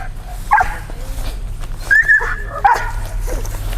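A dog in search and rescue training gives a few sharp barks and high whimpering yips at close range, with brief pauses between calls over a low rumbling outdoor background.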